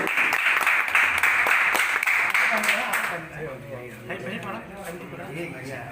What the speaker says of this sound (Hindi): जोरदार तालियों से आप लोग स्वागत करिए भाई